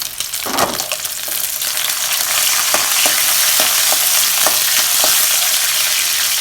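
Garlic and curry leaves sauté in hot oil for anchovy dry fish thokku, giving a steady, close sizzle. A few sharp crackles and stirring clicks rise over it, and no one speaks.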